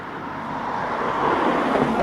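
A car drives past on a street in a UK seaside town, a steady road rush that swells slightly as it nears, fairly close and alone.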